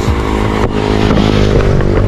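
A motorcycle engine idles and revs close by on a street, a loud, rough running drone with a brief dip partway through before picking back up.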